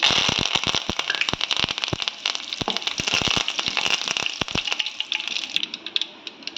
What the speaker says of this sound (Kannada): ಅದು ಇವಾಗ ಚಟ್ಪಟ ಅಂತ ಸಿಡಿತಾ ಇದೆ. ಅದಕ್ಕೇನೆ ಕರಿಬೇವು ಹಾಕ್ತಾ ಇದ್ದೀನಿ.